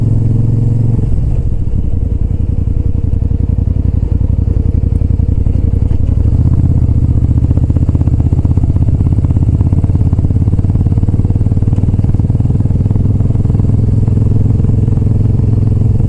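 A motorcycle rolls steadily over gravel on a park path, its mid-pitched engine droning loud and close with a constant crunching clatter beneath, the tone dipping briefly near the start and rising again after a few seconds.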